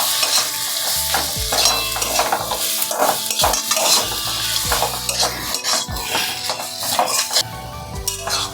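A ground roasted spice mix is stirred into vegetables frying for vegetable chops. Loud, close sizzling runs throughout under repeated metal spoon scrapes and knocks against the pan, with no talk.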